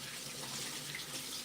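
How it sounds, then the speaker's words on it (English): A kitchen tap runs steadily while hands are washed, a soft, even stream of water with no breaks across the short stretch. "I'm just gonna wash my hands."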